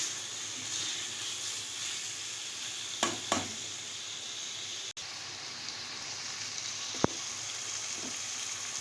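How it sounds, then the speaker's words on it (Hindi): Chicken gizzards frying in masala in a pan, a steady close sizzle and hiss that carries on throughout, with a couple of faint utensil knocks and no talk. "इसको 2-3 मिनट में इसको बस फ्राई करूँगी इस मसाले में"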